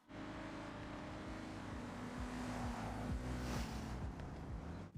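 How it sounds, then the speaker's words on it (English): AI-driven cars in the racing game Forza Horizon 6 approach and pass, steady engine drone with several gliding pitch sweeps as they go by, fairly loud and without talk. "There are two cars coming onto the map, AI cars, Drivatars."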